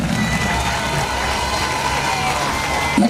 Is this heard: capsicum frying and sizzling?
no